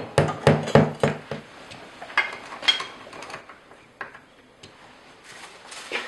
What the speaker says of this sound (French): On marque, on perce et on fixe.